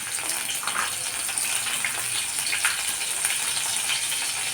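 Cumin seeds and green chillies fry in a little oil at the bottom of a pan, giving a constant loud hiss of sizzling close by with no speech over it.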